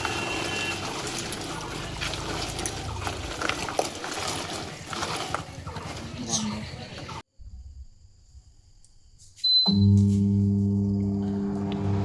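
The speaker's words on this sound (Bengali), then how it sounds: "দুবার তিনবার জল পাল্টে পাল্টে ধুতে হবে।" Jujube fruit being washed by hand in water for pickle-making, with steady trickling, sloshing and splashing throughout, a short near-silent pause, then louder pouring and water movement close by.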